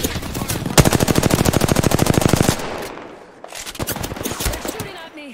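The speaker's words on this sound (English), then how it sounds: "They're shooting at me." Apex Legends automatic weapons fire two rapid, evenly spaced bursts of loud, close shots, the first long and sustained and the second shorter after a brief lull.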